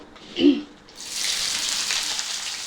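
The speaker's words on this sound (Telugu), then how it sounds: "సారీ, ఉల్లిగడ్డ వేసుకొని కొంచెం వేగిన తర్వాత పచ్చిమిర్చి కూడా వేసుకున్నాం." Onion and green chilies drop into hot oil in a pan with a brief thump, then settle into a steady, close hiss of frying that continues to the end.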